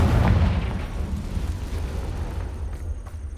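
A Confringo blasting spell explodes in Hogwarts Legacy, giving a loud, close boom at the start that fades into a sustained low rumble with scattered faint crackles and no talk.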